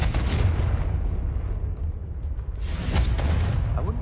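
A Confringo spell explodes in Hogwarts Legacy: a deep booming blast with crackling debris, followed by a second burst about three seconds later, all fairly loud and without speech.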